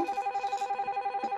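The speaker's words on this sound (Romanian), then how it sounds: "te sună și pe tine cineva pe telefonul fix" A landline telephone rings in a home: a close, electronic trill that pulses rapidly and evenly throughout, with no voices over it.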